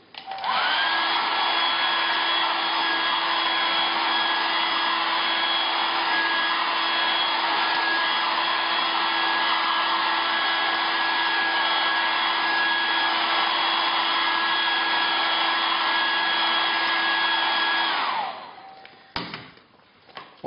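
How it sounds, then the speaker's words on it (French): A hair dryer blows steadily and loudly for about eighteen seconds, warming a pouch of chocolate in a home chocolate-making kit, then switches off, followed by a few soft handling thuds. "prendre un sèche-cheveux et de réchauffer la poche"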